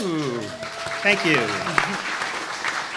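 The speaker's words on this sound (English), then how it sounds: "I think we should give them a round of applause" Audience applause fills a live event hall, steady clapping from a crowd throughout, with a single voice speaking briefly over it near the start.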